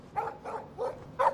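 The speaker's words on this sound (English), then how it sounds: "Stop that! Stop! No barking. No barking." A dog in the video game Life is Strange barks four times in quick, evenly spaced yaps, fairly close and moderately loud.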